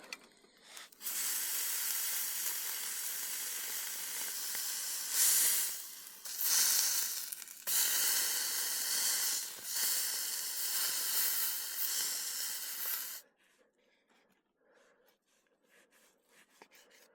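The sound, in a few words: steak searing in a pan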